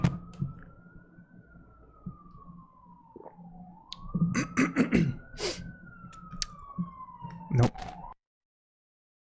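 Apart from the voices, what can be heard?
ambulance siren going by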